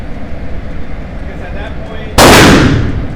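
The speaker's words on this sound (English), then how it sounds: "Now I'll take the P-10C and I'll try to shoot it over here so you can see it" A single loud pistol shot from a CZ P-10C at an outdoor range, a sharp crack with a ringing decay, heard after a few seconds of background noise.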